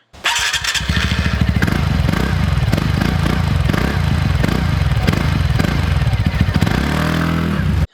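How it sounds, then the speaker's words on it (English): A TVS Ntorq 125 Race Edition BS-6 scooter engine idles and revs with a deep, bassy, throbbing exhaust note, close and loud, rising briefly before settling near the end. "The exhaust note is very bass heavy and it's the same like the older one"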